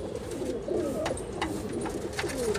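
A Kalmuha high flyer pigeon coos close and continuously, its low rolling throaty notes repeating in a gentle wavering pattern over quiet background rustle.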